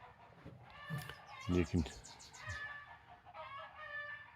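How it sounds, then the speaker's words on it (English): Chickens cluck and a rooster crows near a chicken and goose house on a morning farm patio, a few loud calls standing out over steady clucking, with someone talking faintly alongside. "chicken and goose house. They're happy this morning."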